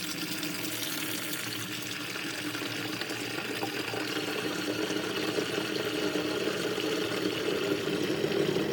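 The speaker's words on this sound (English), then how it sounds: "I'm going to put water in it now" Water pours steadily into a homemade chicken feeder container in a continuous hiss and splash, even and moderately quiet, with no voices.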